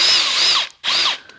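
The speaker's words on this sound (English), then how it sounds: "So get to drilling and tapping." A power drill bores into the cast rear axle housing of a Super Duty truck in two loud, close bursts of whining drilling, separated by a brief pause.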